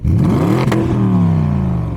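BMW 650i engine revving hard, its loud, close roar climbing sharply in pitch before winding back down into a steady settling drone, with no talking over it.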